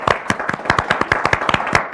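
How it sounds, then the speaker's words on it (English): Audience applause at a live comedy show, a short burst of brisk, closely spaced claps from a small crowd, loud and near. "so we can give her a big round of applause"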